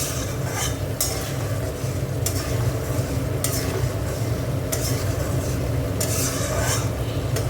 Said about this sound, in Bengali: টমেটোগুলো একটু ভেজে দিলাম, সেটা একটু জল দিয়ে কষবো ভালো করে